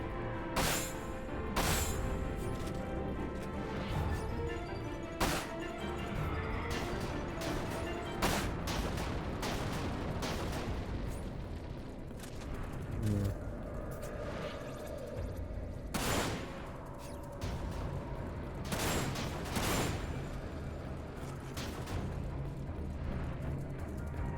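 Continuous gunfire and explosions from the video game Dirge of Cerberus: Final Fantasy VII, with repeated sharp shots, bursts and booms at steady high loudness throughout and no talk.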